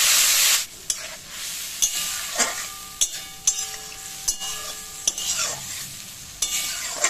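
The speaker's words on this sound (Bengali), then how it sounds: "সামান্য জল দিয়ে মশলাটা আমি ভাজব।" Spice paste with a little water frying in a pan for a fish-head and pumpkin dish, steady sizzle broken by repeated sharp scrapes and clinks of a spoon stirring, no talk.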